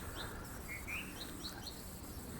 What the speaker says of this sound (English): Birds singing again.